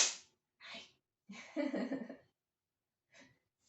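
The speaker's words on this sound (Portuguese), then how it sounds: "Espirrando, mas não é coronavírus, não, é só alergia mesmo" An allergy sneeze comes in a short burst close to the mic, with sharp breathy bursts and a sniff around it. Quiet breaths and faint sounds follow between silences.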